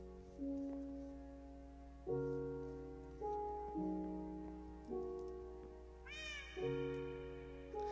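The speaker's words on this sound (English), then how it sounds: "He's playing cat noises too, that's crazy." Electronic Minecraft game audio with the Silent Forest mod plays sustained, stepping tones, joined by a few synthetic cat meows, one rising sharply near the end.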